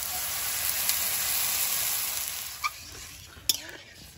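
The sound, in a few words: water poured onto frying potatoes, sizzling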